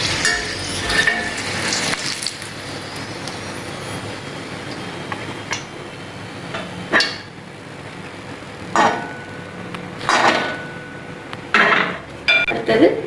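Fish patties fry in hot oil in a home kitchen, a steady soft sizzle running throughout while several sharp utensil clinks and scrapes against the pan break through at intervals.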